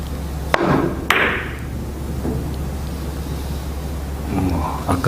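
Billiard cue strikes on a three-cushion table during a soft backspin shot, two sharp clicks close together followed by quieter ball contact later, in a quiet room.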